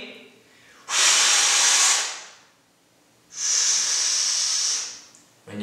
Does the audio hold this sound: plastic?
no